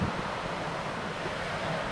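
Sea waves wash onto a beach at Balagbag, a steady broadband roar of surf mixed with gusting wind buffeting the microphone, continuous and fairly close, with no voices.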